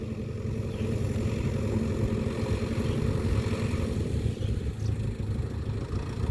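A large Champ X704 tractor idles while reversing without revving, a steady, fairly faint low engine rumble with a light mechanical clatter, heard from some distance.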